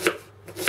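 Two crisp knife chops slicing an onion on a cutting board, evenly spaced about half a second apart, close and clear with no talking.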